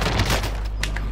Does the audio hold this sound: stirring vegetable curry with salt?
no